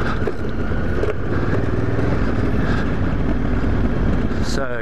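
A motorcycle ridden on private station tracks in the Flinders Ranges, its engine droning steadily up close under heavy wind buffeting throughout.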